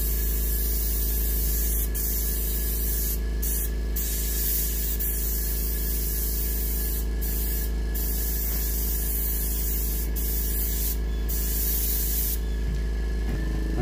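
Paint sprayed onto a muskie mount for taxidermy, a continuous close airbrush hiss over a steady compressor hum, with brief pulses and breaks in the spray.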